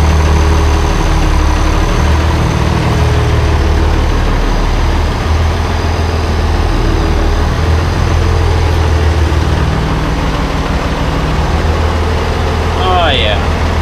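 An IH 1086 tractor engine runs at a steady, loud, low diesel idle, rumbling continuously up close with little change, and a short voice cuts in right at the end.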